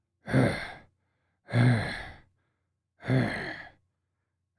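A voice imitates an angry steam engine breathing heavily, giving three evenly spaced, loud, breathy huffs with quiet pauses between them.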